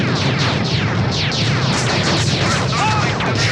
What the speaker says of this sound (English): Like everyone's shooting stuff.